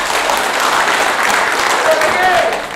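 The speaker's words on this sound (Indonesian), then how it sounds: "Beri aplaus untuk IGI." Audience applause for IGI, the teachers' organization, at a public gathering in Bengkulu: steady, dense clapping from a crowd that holds evenly for the whole moment and fades slightly at the end.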